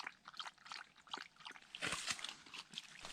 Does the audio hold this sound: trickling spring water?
yes